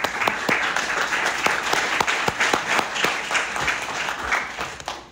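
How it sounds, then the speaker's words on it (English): A round of applause from an audience at a climate listening session at Bowie State University in Maryland, loud and close, with individual sharp claps standing out rhythmically from the crowd's sustained clapping. "let's give them a round of applause"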